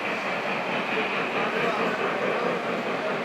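Lionel model trains run across a large club layout with a steady rolling rumble and faint clatter, layered with a busy room hum and distant voices.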